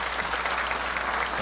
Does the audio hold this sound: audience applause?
yes